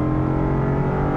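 The V8 engine of a 2023 Land Rover Defender Carpathian Edition on 22-inch road tires roars loudly and continuously under acceleration, a deep, steady, rich exhaust tone with no talk.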